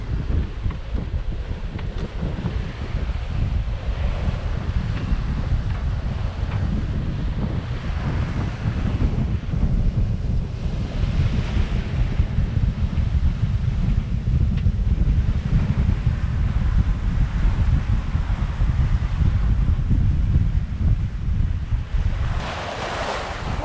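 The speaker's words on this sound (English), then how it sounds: "Wind in front of the beam" Steady wind roars over the open sea aboard a Hallberg-Rassy 54 sailing yacht, with a constant rushing mix of wind buffeting the microphone and waves washing past the hull, loud and unbroken throughout.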